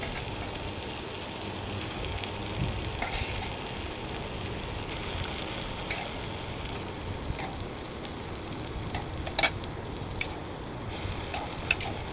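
Eggs dropped one by one into egg korma sauce frying in a pan, giving a steady, close crackling sizzle with soft bubbling, alone and without talk.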